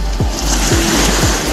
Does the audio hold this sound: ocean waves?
yes